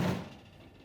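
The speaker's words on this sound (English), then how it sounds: "In order to change the part, we have to open up the oven door." An Amana range oven door swings open with a single dull thump that quickly fades, heard close in a quiet kitchen.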